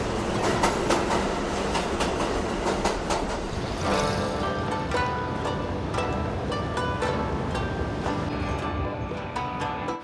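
A Tokyo metro train running gives a loud, continuous rumble with rhythmic clattering from the rails and wheels that holds steady for the whole stretch.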